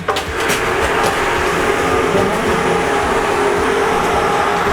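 Small locomotive of an old mine tourist train at Stara Kopalnia running with a steady broadband rumble and rattle, close and continuous, with no voices.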